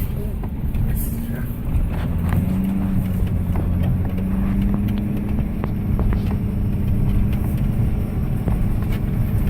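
A vehicle drives over a rough, rutted dirt road near Telephone Cove on Lake Mojave, giving a continuous low rumble with scattered knocks and rattles, while a person talks over it.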